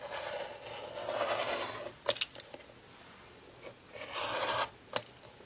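A half rectangle triangle quilt block is trimmed at close range, producing soft rasping, scraping strokes across the fabric with a few sharper clicks between them, quiet and alone.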